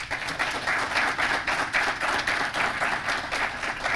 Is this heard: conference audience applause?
yes